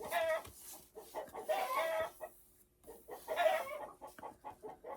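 Several chickens cluck noisily in overlapping bursts, a busy flock calling close by with brief pauses between flurries.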